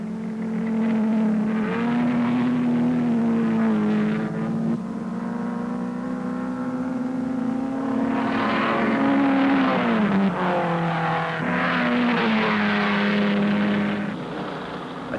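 Sports cars from the 1957 Sebring race, including Jaguars and Maseratis, roar steadily past a hairpin, with engine pitch rising and falling as several cars accelerate and pass one after another, loud and continuous.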